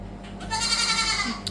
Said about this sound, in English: this is an update on our goat in our laundry room